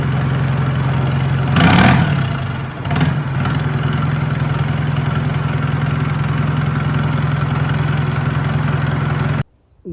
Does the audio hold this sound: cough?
no